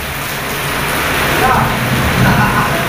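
Steady rain falls on a roof in the Philippines, a dense broadband hiss that holds evenly throughout with faint low rumble beneath and no clear voices.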